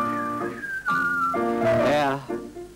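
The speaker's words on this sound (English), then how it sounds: "It can keep you cool on a sunny day or make you whistle when you blow this way." A person whistles a long, wavering tune by blowing air, the pitch sliding up and down in sustained, clear notes with only brief pauses.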